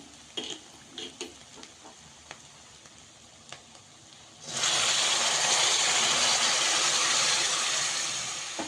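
Hot water poured into hot oil and vegetables for a Marathwada-style rassa amti erupts into a loud, steady sizzle halfway through, after a few faint kitchen clicks, and keeps hissing strongly to the end.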